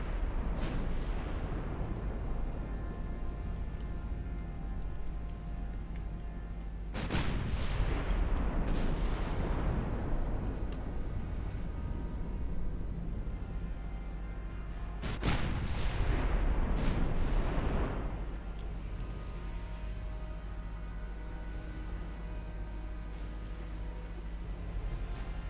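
Heavy naval gunfire from a 1931-era battleship broadside in the naval strategy game Ultimate Admiral Dreadnoughts: two big booming salvos roughly eight seconds apart, each rolling out into a long rumbling decay over a steady low drone, no talking.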